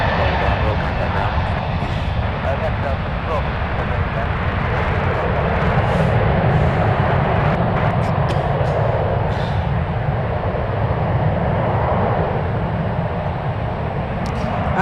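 A JetBlue airliner takes off at San Francisco airport, its engines roaring steadily and strongly throughout, with a voice speaking faintly over it.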